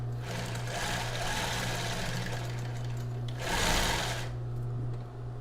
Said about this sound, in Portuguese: vou costurar aqui, fazer uma costura reta